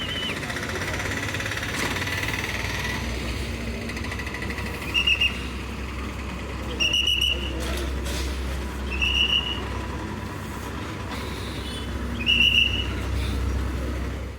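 Low steady engine rumble of a new TNSTC BS6 bus pulling out of the Erode bus stand, with brief higher whines and horn-like tones at intervals over the continuous drone.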